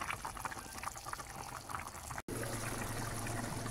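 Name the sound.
bitter melon stew boiling in a pot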